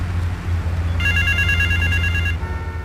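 In the GTA 3 video game, a telephone starts ringing after a second of low hum. The electronic trill comes loud and steady for about a second and a half, then stops, leaving the background drone.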